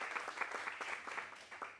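Conference audience at a women in leadership event gives a brief round of applause, faint and even, heard alone without speech.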